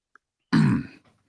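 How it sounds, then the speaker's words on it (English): A single short, throaty cough close to the microphone, preceded by a faint click and followed by silence. "I had to cough, so I was looking for the mute button"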